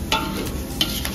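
Minced meat and chopped onions are stirred in a hot pan for Turkish içli köfte filling, giving a steady low sizzle broken by a few scraping strokes of a spoon, close and alone.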